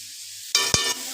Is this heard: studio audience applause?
no